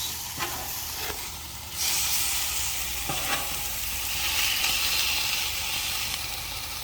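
Asparagus and bok choy sizzling on a hot grill, a loud, steady hiss and crackle that swells as more pieces go down, with a few sharp pops, heard alone.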